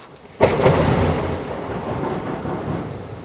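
Thunder cracks loudly during a storm, then settles into a long rolling rumble that continues under a steady wash of rain.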